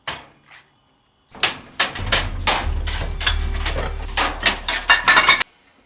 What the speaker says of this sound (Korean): 설거지를 마무리했습니다.